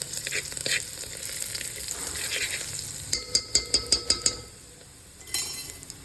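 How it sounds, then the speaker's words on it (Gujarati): Garlic paste and asafoetida sizzle in hot oil as a spoon stirs the pan, giving a run of about seven quick, evenly spaced metallic clinks over a steady frying hiss. "ત્યારબાદ થોડીક એવી લસણની પેસ્ટ નાખી દેવાની અને આ રીતે હલાવી લેવાનું"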